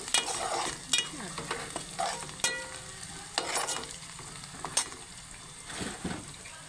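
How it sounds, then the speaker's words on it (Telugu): Onions frying in plenty of oil until golden, with a spoon stirring through them in a pan; a steady close sizzle broken by intermittent scraping and clinking strokes. "ఉల్లిపాయలు దోరగా ఎక్కువ ఆయిల్ వచ్చేలాగా"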